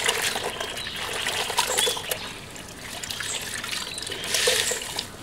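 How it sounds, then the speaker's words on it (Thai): Water trickles and splashes as tie-dyed fabric with a coconut-leaf pattern is rinsed, a steady close running-water sound with small surges and no talk. "แม่ลองซักน้ำใส่นี่"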